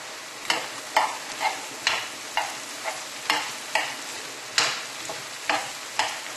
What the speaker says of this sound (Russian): Теперь жарим это все до такого состояния, чтобы овощи не хрустели.